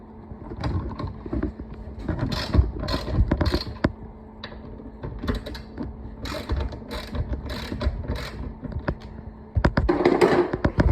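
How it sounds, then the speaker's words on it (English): A breaker bar loosens the front bumper bolts on a Jeep Wrangler TJ, with close, repeated metallic clicks, creaks and taps in irregular clusters throughout. "I'm just using a breaker bar because I didn't know how tight they were going to be"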